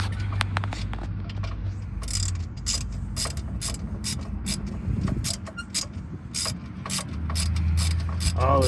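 A ratchet wrench clicks in short bursts of sharp, close pawl ticks while turning a bolt on a first-generation Cummins alternator, with pauses and some low shop rumble between strokes.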